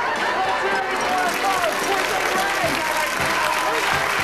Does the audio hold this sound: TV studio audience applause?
yes